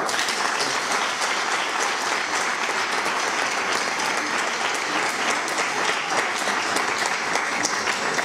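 An audience at a school sports psychology event breaks into dense, continuous applause, steady and close throughout with no talking over it.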